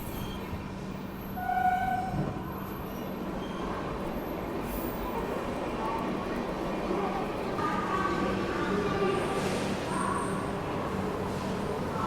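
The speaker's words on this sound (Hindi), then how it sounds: "यहाँ पे अपना अराइवल हो रहा है भुवनेश्वर रेलवे स्टेशन पे" Train rumbling into Bhubaneswar railway station on an AC Express run from Bangalore to Howrah, a steady loud rolling roar with faint squeals and tones over it.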